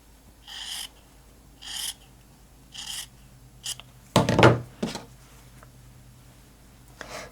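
Scissors or a blade cutting away a quarter inch of scrap quilt fabric, several short rasping snips spaced apart, close and fairly quiet, with one louder scraping cut in the middle.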